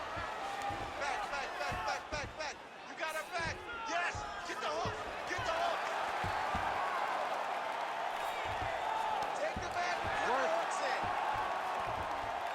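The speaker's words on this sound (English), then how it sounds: "Oh, you heard the crowd pop after that grueling ground battle." An arena crowd in the UFC 5 mixed martial arts video game roars and cheers after a ground exchange, a dense sustained swell of voices with scattered claps and thuds, rising louder toward the end.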